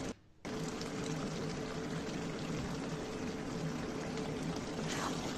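Ghee and a splash of kewra water pour in a steady, continuous stream into a pot of mutton rezala, close and even after a brief silent start, with no voices.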